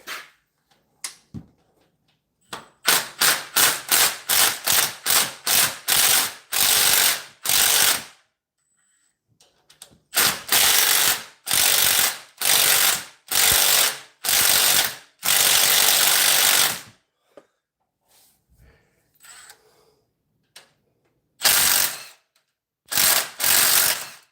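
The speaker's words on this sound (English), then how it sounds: "we'll put a shallow socket on it, so it'll give it a little more torque" Ratchet with a shallow socket turning a bolt on a 2003 Ford Ranger during a timing chain cover gasket job, loud close bursts of rapid clicking in repeated strokes separated by short pauses.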